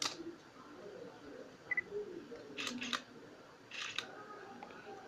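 A Nikon DSLR, just freed from a stuck-shutter error, fires its shutter in a few quick, close mechanical clicks with short pauses between them, heard alone in a quiet room.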